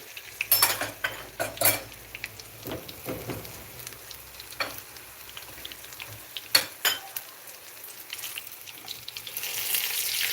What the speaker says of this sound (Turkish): Aşımın üzerine dökeceğim. Kızgın yağımı.